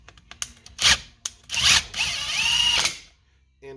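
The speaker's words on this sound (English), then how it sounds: "I am only using my impact drill just to get these seated down on there." An impact drill seats bolts on a Lazy Boy tiller with a flathead Briggs and Stratton engine: two short whirring bursts, then a longer rattling run, close and loud.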